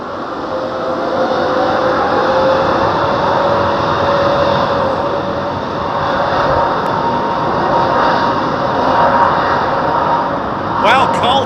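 A Saudi Boeing 787 Dreamliner arrives at London Heathrow, a steady engine rumble with a thin whine that rises and falls slightly, under ongoing talk.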